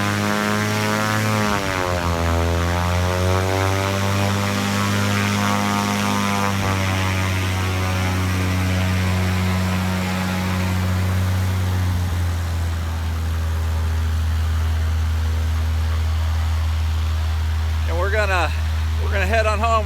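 A Cessna 180 light aircraft taxis on the ground at Fort St. John, its propeller engine droning loud and steady near the microphone, with the pitch shifting partway through and a few brief squeaky sounds near the end.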